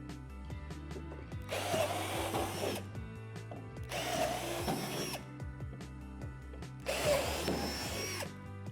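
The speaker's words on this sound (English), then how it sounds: "Drill out the 3 divots at the top of the slide with a 3/8 drill bit." Power drill with a 3/8 bit boring holes through a plastic swing-set slide, three separate bursts of whirring and grinding, each about a second long, separated by quieter pauses with faint handling clatter.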